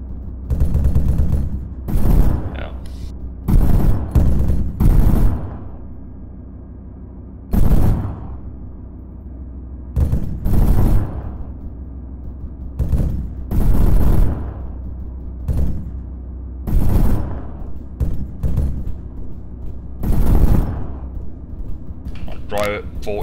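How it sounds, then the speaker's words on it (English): Machine gun fire laying down suppression in a military game, with repeated loud bursts of gunfire at irregular intervals across the stretch and voices talking between them. "Suppress the area up there by MG."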